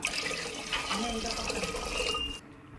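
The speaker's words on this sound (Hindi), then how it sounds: "पानी देदेबा।" Water pours steadily into a cooking pot of khichdi with bay leaf and cumin, a close, continuous splashing gush that cuts off near the end, leaving only quieter room sound.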